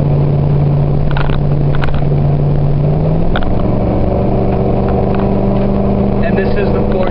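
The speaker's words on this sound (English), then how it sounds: "That's just normal cruising with the back window closed." A 2004 Ford F-150 with the 4.6 V8 and a Thrush muffler cruises at steady speed on a rough road with the back window closed, giving a continuous low engine drone and road rumble heard from inside the cab, with a slight pitch shift midway.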